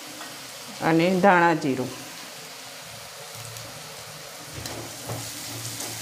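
Garlic-chili paste roasts with turmeric on a low flame: a soft, even sizzle continues close by, with someone briefly speaking over it near the start.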